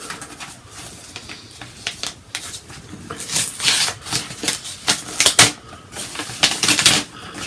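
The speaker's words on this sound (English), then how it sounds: "So I'm going to open the card up here." Greeting card being opened from a mail package, with close paper rustling, tearing and crinkling in irregular bursts that grow louder and busier after the first few seconds.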